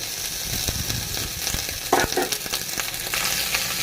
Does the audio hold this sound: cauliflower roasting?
yes